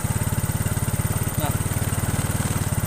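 Yamaha Mio motorcycle engine idling with a fast, steady putter, loud and close, dipping and stumbling briefly midway as it sputters before settling back into its rhythm.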